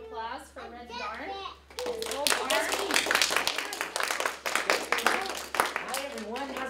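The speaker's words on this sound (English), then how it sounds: "Could you all give a giant round of applause for Red Barn?" Clapping for Red Yarn, a performer at a summer kids' program, starting after a voice and swelling into scattered handclaps mixed with children's chatter.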